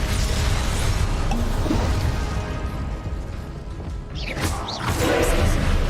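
A fire spell is cast in the wizarding game Hogwarts Legacy as a loud, dense burst, followed by a brief bright whooshing flare about two-thirds through, over a steady rumbling game soundscape.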